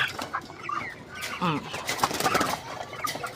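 Chickens cluck in short bursts nearby while people talk over them.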